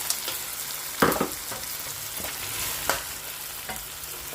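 Cabbage, tomatoes and peas frying in a pan, a steady close sizzle with a few sharp clatters of stirring scattered through.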